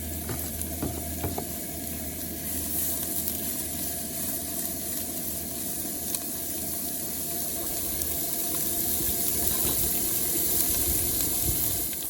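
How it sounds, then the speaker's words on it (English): Onions and jalapenos sauté in a Dutch oven at a campsite, giving off a steady, close sizzle that continues without a break and with no one talking. "We're just going to go ahead, put the veggies in, saute those."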